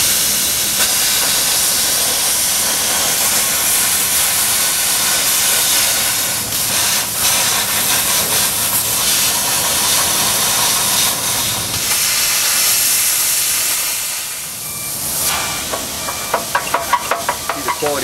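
A plasma cutter cuts through a vehicle frame with a loud, continuous hissing roar that holds steady for about fourteen seconds before stopping, followed by a few sharp clicks and metallic taps.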